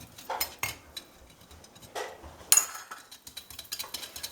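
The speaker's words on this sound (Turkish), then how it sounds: "Şimdi şeker eriyene kadar bunu karıştıracağız." A utensil stirs sugar in a pan until it melts into caramel, giving intermittent scraping and clinking strokes in short bursts against a quiet kitchen background, with no talk.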